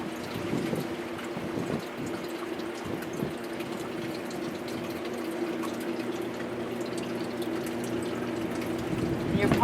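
A submersible pump circulates water through a hydroponic system, a steady low hum under continuous trickling and dripping as water falls through the tiers.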